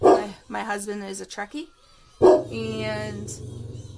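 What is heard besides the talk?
dog barking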